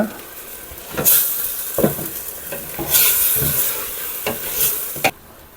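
Chicken biryani masala is stirred in a pot, a steady sizzle broken by several sharp scraping strokes of a spoon against the pot, loud and close, with no talk.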